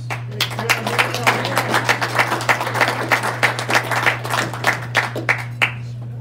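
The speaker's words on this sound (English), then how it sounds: "Appreciate the resounding applause" A meeting audience applauding: steady, fairly close crowd clapping lasting about six seconds over a constant low room hum, then tapering off at the end.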